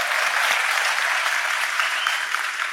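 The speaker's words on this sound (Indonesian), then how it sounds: "Tepuk tangan untuk semua" Sustained applause from a gathered audience at an Indonesian Ma'iyah religious gathering, a dense, steady wash of many hands clapping together at even loudness throughout.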